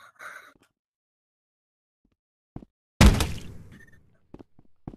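A bomb launches in the VR game Rec Room: one sudden loud thunk-like burst with a crackling tail that fades over about a second, framed by short quiet clicks and brief bits of voice.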